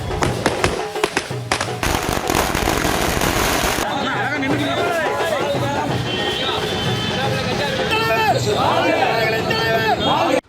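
Firecrackers go off in a fast string of sharp bursts at a political celebration in Tamil Nadu, with crowd hubbub behind them. The crackling gives way to busier babble and overlapping voices, with a few scattered pops after that.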